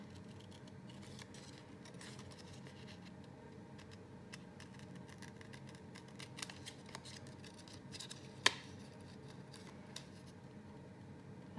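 Scissors make repeated close, quiet snips while trimming card paper, a run of small crisp cuts with one sharper click near the end and no talking.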